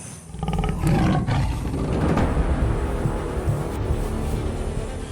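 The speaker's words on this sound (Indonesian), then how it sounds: "Suara macan." A tiger gives a loud, deep roar that rolls on for several seconds, close and heavy, with no voices over it. The roar comes from an Indonesian drama series.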